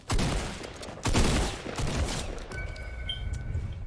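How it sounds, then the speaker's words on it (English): Gunfire in Fortnite: a couple of loud close bursts of shots followed by scattered fainter firing and game effects, with no talking. "Oh no, he's shooting."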